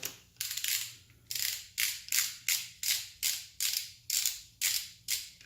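Torque wrench ratcheting cylinder head bolts down on an LSx/LQ4 turbo engine: about eleven crisp, evenly paced ratchet clicks, each with a short buzzing burst, close up and alone.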